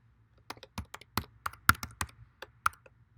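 Sparse, quiet keystrokes on a computer keyboard while a password is entered, single clicks spaced irregularly over a few seconds, close and isolated with no voices.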